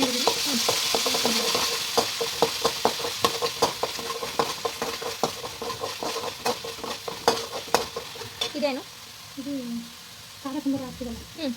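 Chicken fries in hot oil with onion and garlic, a steady close sizzle broken by repeated sharp scrapes and clatters of a spoon stirring against the pan, with a person talking over it toward the end.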